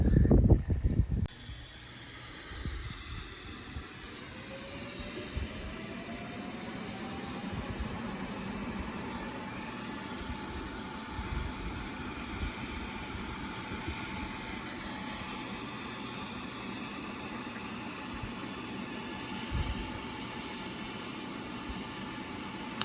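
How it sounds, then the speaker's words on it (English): A Ryobi 1800 PSI pressure washer, powered by a Delta 2 power station at about 1400 watts, sprays with a steady high-pressure hiss without a break, a constant mechanical drone beneath and a faint rising whine early on. "watch this as we're spraying in the background"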